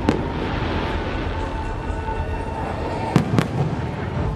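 Fireworks burst at Disneyland with a steady crackling background and two sharp, close pops near the end.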